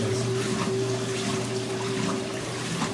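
A washing machine agitates while leaking water, making a steady watery splashing and sloshing over a constant mechanical hum that is close and continuous.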